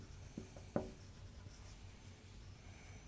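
Pen strokes scratch on paper during a geometry lesson on quadrilaterals, two short faint scribbles close by, the second slightly louder, with a quiet room hum and no talking.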